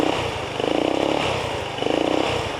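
A GY6 150cc scooter engine idles steadily just after its first startup, a loud, close, continuous chugging putter with slight rhythmic pulsing throughout.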